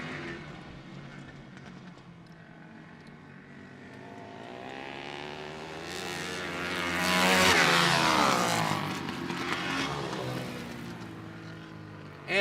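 Flat track motorcycles and quads race past, Timmy Connor leading and a Kawasaki in second, their engines rising to a loud, close roar mid-way and then holding a steady drone.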